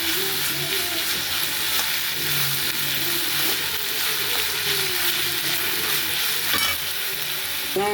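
Onion with ginger and garlic sautés in a pan, giving a steady, loud, continuous sizzle and fry with faint stirring throughout.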